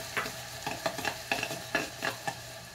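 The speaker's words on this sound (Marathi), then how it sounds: "तो मसाला यात संपूर्ण घालणार। थोडं हलवून घ्यायचं।" Kolhapuri masala being stirred into chicken rassa in a pan of hot oil, a spoon scraping in a series of short, close strokes over a soft sizzle, with no voices.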